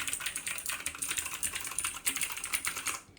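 An ABKO K570 mechanical keyboard with blue switches is typed on quickly and close up, giving a dense run of sharp clicky keystrokes that stops abruptly at the end.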